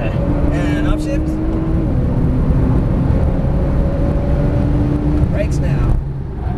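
A Porsche 911 Turbo S engine roars loudly on a race track, with steady high-revving drone and brief pitch drops at upshifts, close and continuous; a person talks over it.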